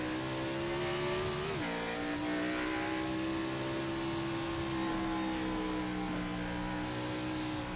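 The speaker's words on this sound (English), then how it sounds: "And that's what it looks like from the back end of Hank's car" Race cars in a televised event, Coast to Coast Racing, heard from onboard a car: a continuous engine drone with a sudden pitch drop near the start, then a steady whine as the car works through a twisty section.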